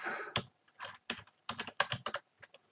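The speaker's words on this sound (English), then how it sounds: "Let me type" Clattery bursts of typing on a computer keyboard, irregular clusters of quick key taps with short pauses between them, close and fairly quiet, with no voices.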